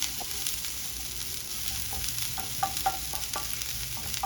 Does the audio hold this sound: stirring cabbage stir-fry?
yes